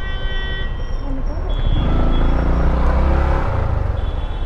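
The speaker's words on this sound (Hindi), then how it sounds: "इतना ट्रैफिक भाई" Road traffic crowding a small bridge, a steady roar of cars and trucks with a horn toot or two, loud and close, swelling midway and staying dense to the end.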